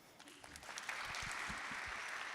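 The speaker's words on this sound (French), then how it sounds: "Par applaudissement." Audience applause at a marketing talk rises from a quiet start into steady, sustained clapping from a crowd, fairly close, with a few heavier thumps underneath and no talking.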